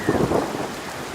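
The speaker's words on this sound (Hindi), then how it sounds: "पता नहीं ये बारिश कब रुकेगी।" Heavy rain with a rumble of thunder in a cartoon about a flood in the jungle, a loud, brief burst of rolling thunder over steady downpour.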